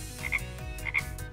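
Frog croaking at a zoo, two rhythmic pulsed croaks repeated at a steady pace, each with a bright chirping peak, close and clear with no talking over them.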